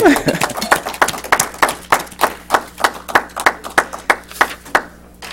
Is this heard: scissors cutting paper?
no